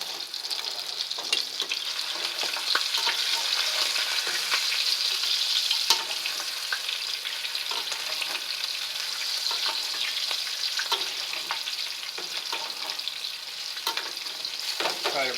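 A spring lamb leg browns in a hot pan with a continuous bright sizzle and crackle. A few clicks and scrapes of a spoon break through now and then.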